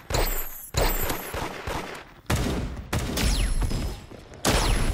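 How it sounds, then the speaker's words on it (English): Gunfire in the Roblox game Da Hood on mobile, sharp bursts of shots arriving in several separate loud clusters with brief gaps between them, no talking. "How many times do I have to shoot you?"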